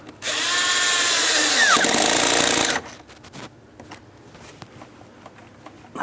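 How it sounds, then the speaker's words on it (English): A power driver tightens a hose clamp on the air intake tube of a 2003-2007 Cadillac CTS 3.6L V6, giving a loud, close, steady whir for about two and a half seconds before dropping to faint workshop clatter. "I'm going to tighten that clamp"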